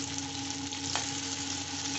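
Large fritters of mixed vegetables and chana dal frying in hot oil, a steady close sizzle and crackle that runs evenly without pause and with no voices.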